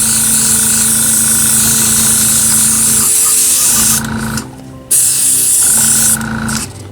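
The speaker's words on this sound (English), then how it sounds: "Spray these tubes." An aerosol can sprays paint onto metal tubes in long, loud, steady hissing bursts, with two brief pauses where the nozzle is released, close and alone.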